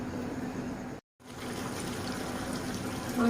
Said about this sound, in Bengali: মাংসতে আর একটু জলের প্রয়োজন, যেহেতু ঝোল বানাবো তাই একটু জল দিয়ে দিলাম পরিমাণ মতন।